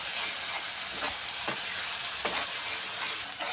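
Spice masala paste sautés in oil in a pan alongside fried potato, making a steady close-up sizzle broken by a few soft stirring scrapes, with no talking.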